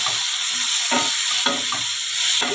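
Ground spices, Kashmiri chilli, turmeric, cumin and coriander, sizzle while being stirred and sautéed in a pan for a cabbage curry, a constant crackling hiss broken by periodic scraping strokes of the spoon.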